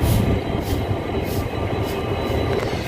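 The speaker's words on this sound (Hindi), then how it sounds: "यस अपनी ट्रेन आ रही है। That is 13173 Agartala Kanchenjunga express." The 13173 Agartala Kanchanjunga Express train arriving at a station, a loud, continuous, close rumble of rolling wagons with faint rhythmic wheel clatter.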